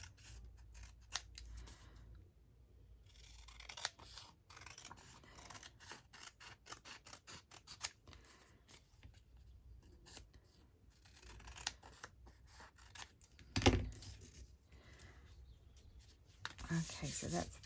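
Scissors snip through paper while trimming a mini matchbook notepad at a craft table, with a loud close cut near the middle, scattered softer snips around it, and a person speaking at times.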